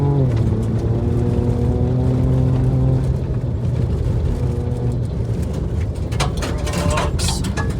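A 2023 Ford Ranger Raptor drives fast off-road in Baja mode through Palm Valley. Its engine drones under a constant rumble of tyres on rough ground, with sharp rattles and rock impacts near the end.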